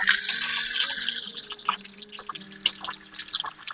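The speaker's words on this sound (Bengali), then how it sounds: "এবার পরিষ্কার করে ধুয়ে নেব।" Cleaned loitta (Bombay duck) fish being washed in water in a kitchen, with running tap water and splashing, dripping sounds that continue steadily and close by, with no talking.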